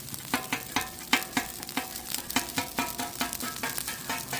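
Rice is stirred and scraped across a hot Blackstone teppanyaki griddle in a backyard, with a steady sizzle under rhythmic metal-spatula clacks and scrapes, close and fairly loud, with no talking.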